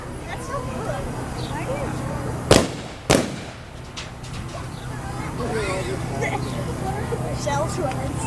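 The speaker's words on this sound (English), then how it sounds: "Oh, of course it's gonna be loud because it's a gun." Two loud gun salute blasts in quick succession at a Memorial Day parade ring out over a crowd murmuring and talking in the background.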